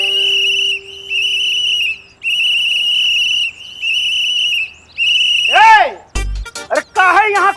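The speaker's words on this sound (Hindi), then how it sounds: "अरे काहे यहाँ कान में आके जोर जोर से सीटी मार रहे हो?" Loud, shrill whistling by a person close to the ear, sustained in several long bursts, then breaking into rising and falling swooping whistles near the end.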